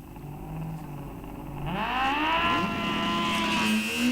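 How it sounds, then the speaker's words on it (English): Drag-racing motorcycles, a turbocharged Suzuki Hayabusa and a 2003 Yamaha, run down an eighth-mile drag strip. Their engines roar from a distance with a steady, rising whine that climbs in pitch as they accelerate. "The turbocharged Hayabusa right side, that thing's extremely fast."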